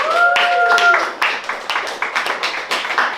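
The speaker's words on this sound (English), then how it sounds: "can we give a round of applause for the artists?" Audience at a poetry reading gives the artists a round of applause: scattered clapping from a small room crowd, with a voice briefly heard at the start before the claps taper off.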